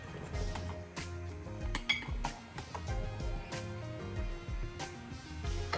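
A metal lid clanks down onto a cocotte pot while Algerian berkoukes cooks, giving several sharp clinks and rattles close by against a low steady kitchen hum.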